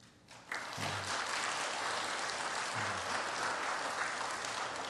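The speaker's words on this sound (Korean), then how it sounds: "우리 박수 한번 하시겠습니다" A church congregation claps together after a Sunday sermon invitation, a dense sustained wash of applause that starts abruptly and fills the room steadily for several seconds, with no voices over it.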